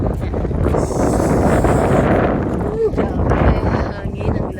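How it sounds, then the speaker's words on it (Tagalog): Strong, cold wind in Tagaytay, Philippines, buffets the microphone in a steady roar, with a faint voice and some background noise under it. "Grabe, hangin ang lamig."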